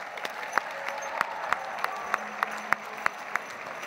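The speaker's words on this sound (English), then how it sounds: "Give yourselves one more round of applause." Audience applause at the FIRST LEGO League World Festival closing ceremony, heard as steady clapping from a large crowd with sharp individual claps popping out at a fairly even rhythm.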